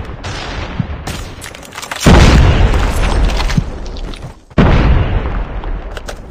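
A grenade blast in the mobile shooter COD Mobile, two heavy booming explosions a couple of seconds apart with rumbling low-end tails, loud and close amid gunfire crackle.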